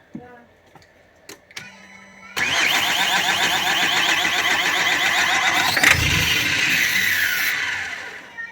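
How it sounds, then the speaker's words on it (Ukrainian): Opel Vivaro 2.0 diesel van engine cranking on the starter with the air intake removed, a sudden loud sustained whirring and churning that runs several seconds after a few faint clicks. "крути стартером"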